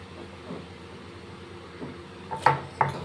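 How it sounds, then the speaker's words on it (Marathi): Ginger and garlic are pounded coarsely in a mortar and pestle: faint soft taps at first, then two sharp, hard knocks close together near the end against a quiet kitchen background. "खलबत्त्यामध्ये कुटून घेते मी"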